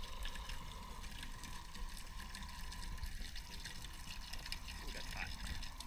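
Water runs from a red PEX pipe into a bucket during an EcoSmart 36kW on-demand water heater install, a steady, continuous rushing hiss lasting the whole stretch with a faint voice in the background.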